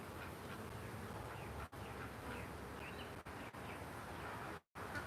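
Honeybees droning steadily at close range while a hive frame is inspected, a continuous dense buzz with a few brief dropouts and no voices.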